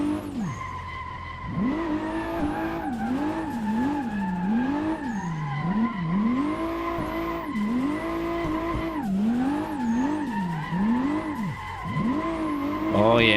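Assetto Corsa cars drift with loud, sustained tire squeal that rises and falls in wavering sweeps over a revving engine. The squeals repeat in rhythmic bursts across the run and stay close and prominent throughout.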